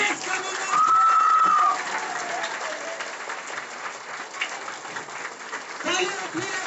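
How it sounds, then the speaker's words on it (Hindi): A live audience applauds loudly to welcome a guest onstage at a motivational seminar event, sustained dense clapping throughout with a brief louder swell near the start and a voice briefly audible over it. "जोरदार ताली होनी चाहिए, जोरदार"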